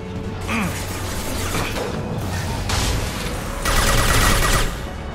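Weapons fire in the video game Mass Effect Legendary Edition, heard as bursts of mechanical, rattling shots with clattering and whining effects. The loudest burst comes near the end.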